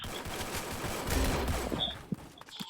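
Video game firefight with rapid overlapping gunshots and bursts of automatic fire, slightly distant and muffled, continuous for a few seconds before thinning out into scattered shots.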